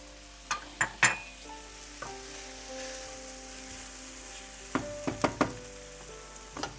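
Garlic cloves sizzling in a frying pan with red pepper for a meat byrek filling, a soft steady fry with several sharp crackling bursts near the start and end.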